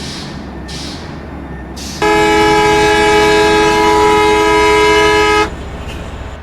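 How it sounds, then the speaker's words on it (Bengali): In a bus driving video game, a passing train sounds a loud, sustained horn blast for about three and a half seconds over a constant background engine hum. "এই ট্রেনটা আসার আগে যেতে হবে"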